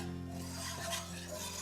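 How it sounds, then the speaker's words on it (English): Eggs whisked steadily in a non-stick sauté pan, a soft continuous scraping and rubbing of the whisk against the pan, quiet and unbroken beneath a low steady hum. "So you wanna make sure that you're whisking continuously."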